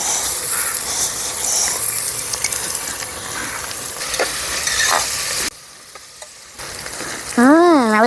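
Chopped mint leaves hit hot oil with onions for chicken biryani, a loud steady sizzle and crackle that runs continuously, dips briefly, then resumes.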